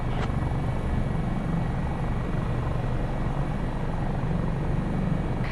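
Steady, loud rotor and turbine drone from a Coast Guard HH-65 Dauphin helicopter in Microsoft Flight Simulator 2024, holding continuously without a break at low altitude, with no voices.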